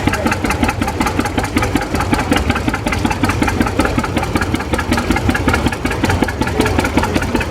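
A John Deere MT tractor engine runs at an outdoor steam and gas engine club show, a loud, close, steady chugging with a rapid even firing beat throughout.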